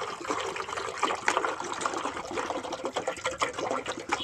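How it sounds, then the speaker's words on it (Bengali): A litre of water poured from a bottle into a bucket for soaking cow dung manure, a steady close splashing trickle running throughout with no talk. "এই 1 লিটার জলটা আগে এই বালতির মধ্যে আমি ঢেলে দেব"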